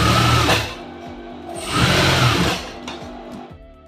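Sewing machine stitching all around a blouse lining, running in two close, fairly loud whirring bursts with a slower mechanical chatter and a pause between them, with no voices.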